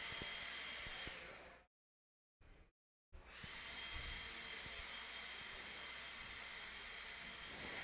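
A leaf blower runs at an off-road radio-controlled car raceway, a steady loud broadband whoosh that cuts out briefly for about a second and a half before resuming at full strength.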